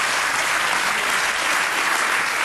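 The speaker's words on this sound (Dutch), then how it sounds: "Geef een hard applaus." Loud studio audience applause at a Dutch TV show, steady dense clapping filling the whole stretch with no break.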